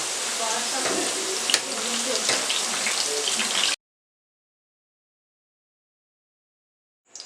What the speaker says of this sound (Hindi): इसलिए आपने इसको हल्का सा फ्राई करना है।